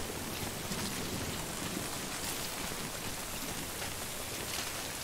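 Steady rain pours in Death Stranding, a dense even hiss of drops with no gaps, moderately loud and unbroken, with no voices over it.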